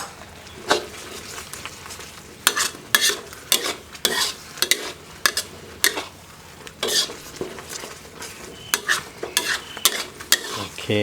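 A utensil stirs thick Thai gravy sauce in a hot pan, giving a steady sizzle broken by repeated scraping and clacking strokes against the metal, close and fairly loud with no voices.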